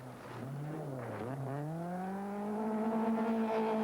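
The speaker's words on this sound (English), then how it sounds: "Drifting the Opel round beautifully. Now it's foot hard down." Opel rally car drifting round a bend on a rally stage, its engine note dipping then climbing steadily as it revs hard, moderately distant and continuous, with no voices.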